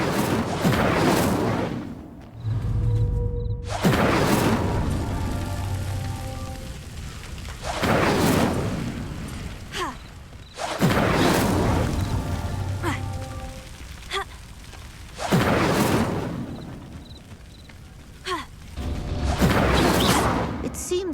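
Incendio fire spells cast at pyres in the game Hogwarts Legacy, heard as several loud, rumbling, roaring bursts repeating every few seconds with a low booming tail.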